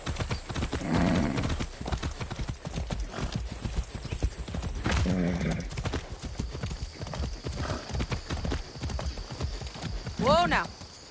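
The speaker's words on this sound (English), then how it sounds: "Be nice, horse." Horse hooves clip-clop steadily in Far Cry 6, loud and close throughout, with a brief whinny near the end and game speech over the rhythm.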